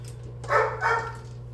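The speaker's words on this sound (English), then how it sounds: "My dog was whining" A pet dog whines indoors in two short, high, nasal bursts close together, fairly near and clear over a steady low electrical hum, with no one talking.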